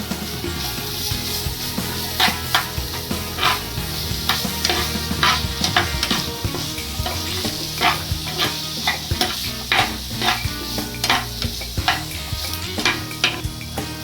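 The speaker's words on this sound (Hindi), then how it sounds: "1 चम्मच लहसुन अदरक का पेस्ट डाल रही हूँ, इसको भी साथ में इसको भूनेंगे।" Steady sizzling of garlic-ginger paste frying with onions in a pan, with a spoon scraping and stirring in regular strokes and occasional clinks against the metal.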